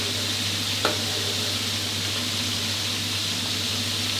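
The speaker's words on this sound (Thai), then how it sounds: "พอทอดมันสักแป๊บหนึ่งก็ขยับได้เลยครับปลาก็จะร่อนจากกระทะง่ายดายเลยครับ" Continuous, even sizzling of turmeric-coated fish frying in hot oil, close up, with a single faint utensil tap near the start.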